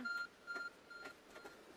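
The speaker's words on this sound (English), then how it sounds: "There's a glowing beeping object over there." A glowing object beeps in the Pokemon Legends: Arceus video game, giving two short, even electronic tones followed by a fainter third, set against soft game ambience.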